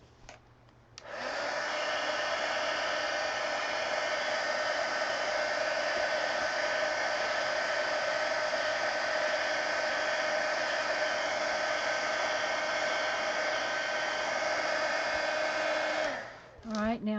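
A hair dryer runs steadily for about fifteen seconds, blowing over a watercolor coloring page, a loud, even whooshing roar that switches on near the start and cuts off near the end, with no talking.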